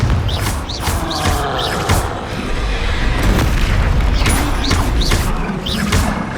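Confringo blasting spell in the Hogwarts Legacy video game, a loud booming explosion with thumping impacts and rumbling debris continuing over several seconds amid game combat effects.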